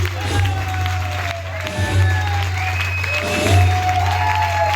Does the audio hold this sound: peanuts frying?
no